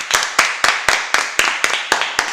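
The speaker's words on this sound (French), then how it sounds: "on applaudit" A single person claps about ten times in a steady, even rhythm, each clap sharp and close, with nothing else heard between them.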